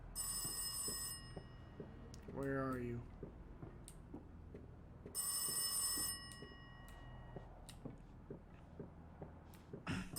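Telephone bell ringing in the horror video game Rise Of Insanity, two long shrill bursts separated by a pause, with someone speaking over quiet background ambience.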